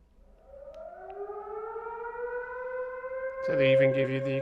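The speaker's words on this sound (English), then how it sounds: "So they even give you the experience of a siren going off." Civil defense air raid siren in a Spanish Civil War bomb shelter reenactment in Alcoy, Spain, a rising wail that climbs and holds steady, then a louder harsher tone cuts in near the end.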